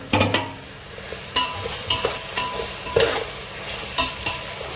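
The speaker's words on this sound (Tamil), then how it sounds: "வெங்காயம் நல்லா கோல்டன் ப்ரௌன் ஆகிற வரைக்கும் நம்ம நல்லா ஸ்டர் பண்ணிகிட்டே இருக்கணும்" Onions, ginger-garlic paste and slit green chillies fry in a pot for green mutton biryani, stirred steadily with repeated close scrapes of the spoon over a constant soft sizzle.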